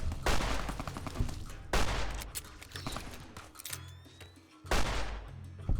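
Rapid bursts of gunfire in the Fallout New Vegas video game, from an inaccurate 10mm weapon, come as loud, close volleys of quick shots in three main clusters with brief gaps between them.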